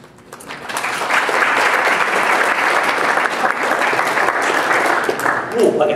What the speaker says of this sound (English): I get triple the amount of claps now